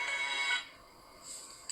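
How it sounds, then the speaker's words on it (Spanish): A phone ringtone sounds for an incoming call during an online law lecture, a steady bright electronic tone that cuts off partway, then returns more faintly before ending. "si me están llamando por teléfono el amigo Pavón"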